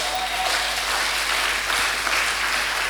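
A church congregation applauds at a sermon, giving a steady, dense wash of clapping from many hands that fills the room throughout.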